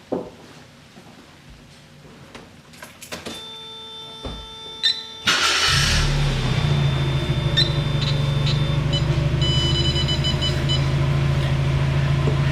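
A 1990 Mazda Miata MX-5 cranks and starts after a few clicks and beeps as the ignition comes on, then settles into a steady, close idle.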